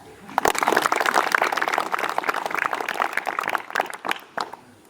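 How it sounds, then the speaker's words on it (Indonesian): An audience applauds during a school visit, dense sustained clapping from many hands with some sharp individual claps, fading toward the end. "Ya, tepuk tangan."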